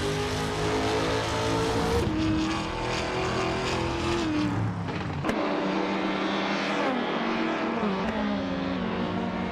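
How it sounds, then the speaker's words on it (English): Alfa Romeo 156 GTA race car engine in a racing video game, a loud continuous drone whose pitch climbs and drops sharply with gear changes throughout. "driving a 27 Alfa Romeo 156 GTA, known for its agility rather than outright speed"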